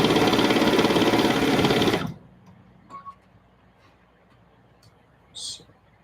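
A sewing machine runs steadily and close for about two seconds while stitching jelly roll quilt top seams, then stops, leaving quiet room tone with a couple of faint clicks.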